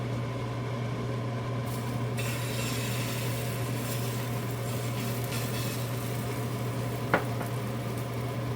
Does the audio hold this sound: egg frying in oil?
yes